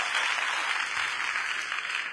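Steady, dense applause from an audience at an awards ceremony honouring a top achiever, continuous and fairly loud without a break.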